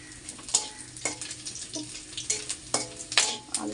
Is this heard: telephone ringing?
no